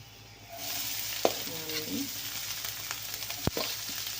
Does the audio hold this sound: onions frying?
yes